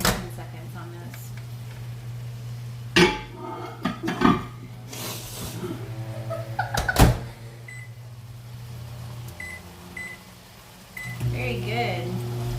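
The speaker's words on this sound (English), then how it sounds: "You want to put those in the microwave for like, A minute." A microwave oven hums steadily while warming soft tortillas for tacos, with a door clunk, dish and cutlery clatter, and a few short beeps near the end.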